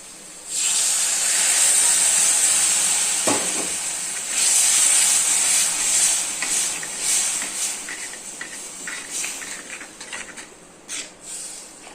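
Tamarind water hits a hot pan of small onion gravy with a loud, sustained hiss and sizzle that gradually fades into softer bubbling and crackling.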